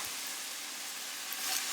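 Minced garlic, five cloves, sizzling in a pan over medium-high heat for a spaghetti and meatballs sauce, giving a steady, even hiss that swells slightly toward the end, with no talking.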